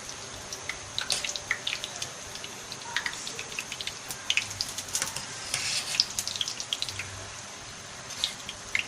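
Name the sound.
dumplings for dahi bhalla put into salted chili water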